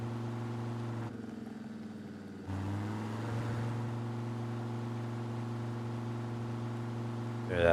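Steady in-game car engine in Drive Beyond Horizons, droning at a constant pitch with strong low harmonics, briefly dropping away then returning and straining, with a rising rev at the very end.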